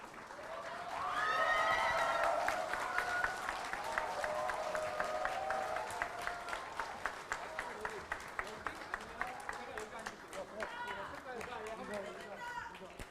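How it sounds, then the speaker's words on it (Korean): Panelists enter a live public broadcast event to warm applause, with an announcer's voice and cheering over the clapping early on, then rhythmic unison clapping building into steady, regular beats. "뜨거운 박수로 환영 부탁드리겠습니다."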